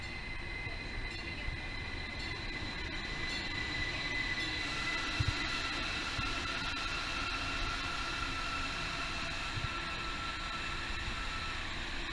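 A TexRail commuter train between Grapevine and Fort Worth rumbles steadily along the rails with a constant roar and faint high whine, heard from inside, no voices.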